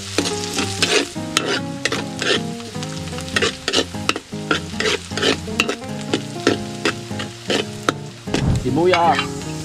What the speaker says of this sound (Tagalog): gigisa ko po muna sa luya